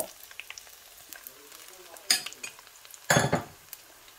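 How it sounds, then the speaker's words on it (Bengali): Prawns fry with garlic and onion in a pan, a quiet crackling sizzle broken by two louder bursts of hissing as the pieces are tossed and stirred, with light utensil clicks and no voices. "এবার ভালো করে চিংড়ি মাছগুলো রসুন পেঁয়াজের সাথে ভেজে নেব"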